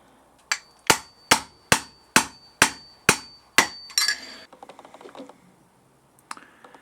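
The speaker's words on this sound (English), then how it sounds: "I'm just hammering it in, working it around, so then this clip is going to go into its groove" Eight sharp, evenly spaced hammer blows drive a fork oil seal retaining clip into its groove on a BMW F650GS Dakar front fork, loud and close, followed by lighter metallic clicks and scraping as the clip is worked around.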